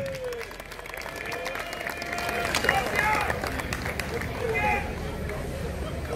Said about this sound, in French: On peut l'encourager par des applaudissements, s'il vous plaît